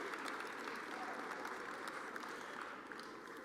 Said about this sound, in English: Ladies and gentlemen, a round of applause for your Hofstra Pride softball team.